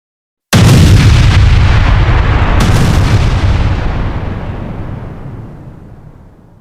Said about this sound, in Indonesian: barusan terjadi ledakan dahsyat.